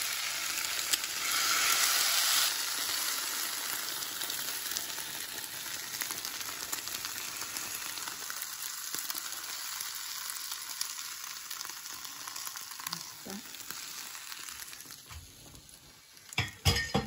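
Beaten eggs fry in a pan for a Mexican egg tortilla, a loud hiss rising as the egg hits the hot oil, then a softer steady sizzle, with a few clinks of utensil against the pan near the end.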